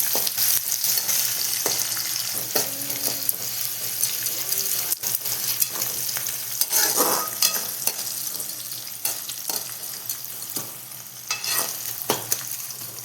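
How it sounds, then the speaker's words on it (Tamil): Onions and chillies sauté in oil with popped mustard seeds, a constant loud sizzle broken by frequent sharp scraping stirs and taps of a spatula against the pan throughout. "வெங்காயம் மிளகாய் சேர்த்துக்கலாம். இது எல்லாத்தையுமே நல்லா வதக்கி விட்டுக்கலாம்."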